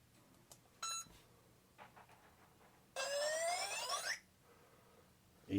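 Electronic speed control of an Arrma Gorgon 1/10 monster truck arming: a short beep, then a longer rising melodic tone sequence lasting about a second, clear and close over low background noise.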